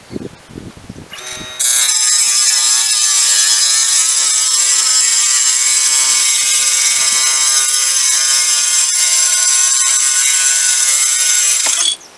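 An AEG BMMS18SBL-0 subcompact cordless angle grinder cuts ceramic tile: after a few faint handling knocks, a loud, steady, high-pitched whine with a gritty edge holds unbroken for about ten seconds, then cuts off.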